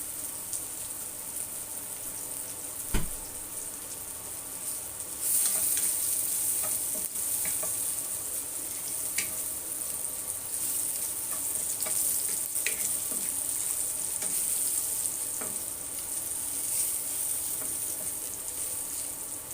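Garlic frying in leftover oil from fried tilapia, for ginataang tilapia, makes a steady close sizzle with a few sharp clicks of stirring utensils, louder after a few seconds and running alone with no talk.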